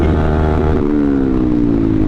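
A Yamaha R15 v3 motorcycle engine drones at speed during a road race, a loud steady whine that shifts pitch midway as it changes gear, with wind rush and no talk.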